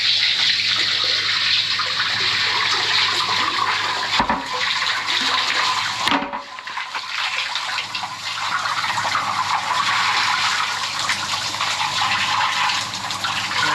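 Water washes around the inside of a sewer chamber at a hospital drain blockage: a loud, continuous gush of running water with a brief dip partway through.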